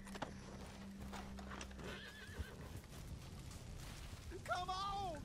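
Horse whinnies rise near the end of a Red Dead Redemption 2 online game scene, with clip-clop hoofbeats and other game noise running underneath.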